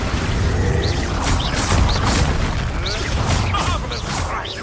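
Repeated booming spell blasts in the Hogwarts Legacy video game, Expulso explosions with whooshing magical effects, loud and continuous over a rumbling battle background.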